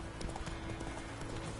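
Horse hooves clip-clop in a steady trot through The Witcher 3, a continuous rhythmic patter of strikes close by with ambient game noise underneath.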